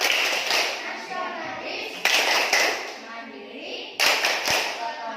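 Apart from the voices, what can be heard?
children doing the PPK rhythmic clapping chant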